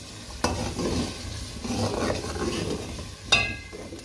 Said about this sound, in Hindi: देखिए थोड़ा भुनना स्टार्ट सा हो गया है, ये रोगन ऊपर आने लगा है।